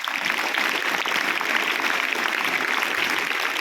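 A crowd of secondary-school students applauds for their parents, giving steady, dense, continuous clapping that holds at an even, fairly loud level without a break.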